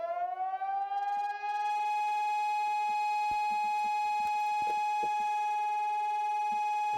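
A loud air-raid warning siren winds up and holds a steady sustained wail, with scattered clicks and knocks underneath.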